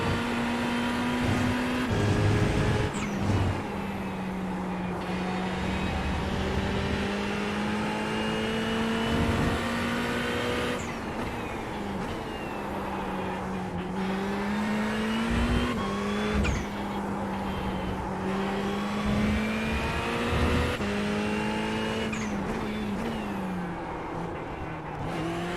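A race car engine hums steadily while hot lapping in the iRacing sim, with long sustained revs that dip and climb through gear changes and corners, plus occasional tire squeal and no voices.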